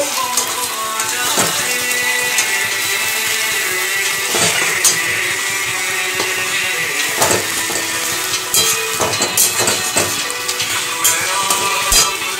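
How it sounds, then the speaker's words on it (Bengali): Onions fry in oil with whole garam masala and bay leaf, giving a steady, fairly loud sizzle with occasional sharp clinks and scrapes of stirring throughout, and no talking. "গোটা গরম মশলা, তেজপাতা দিয়ে পেঁয়াজটা ভেজে নিচ্ছি"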